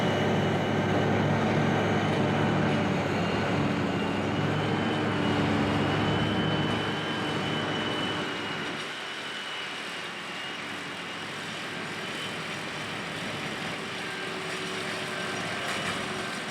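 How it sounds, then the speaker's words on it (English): Heavy farm machinery drones continuously as a Krone Big X V12 forage harvester and tractors work a field, a loud engine roar with whirring mechanical hum that eases slightly partway through, with no talking. "we're going to follow a Krone Big X V12 forage harvester and an army of tractors, mowers, mergers, and trucks"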